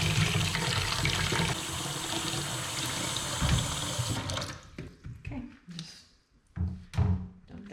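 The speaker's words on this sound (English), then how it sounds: "I'm just gonna run the hot water in here" Hot water pours from a tap into a sink during a raw wool rinse, a steady close rushing stream that then breaks into irregular splashes and thunks as it is turned off; a voice talks over it.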